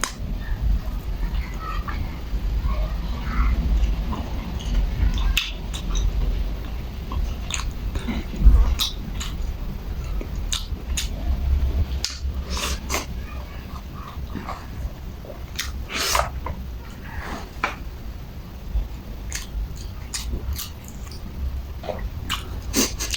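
Someone chews crunchy fried latiao wrapped around luncheon meat, with repeated loud, close crunching and biting sounds scattered over steady eating noise, under soft room sound.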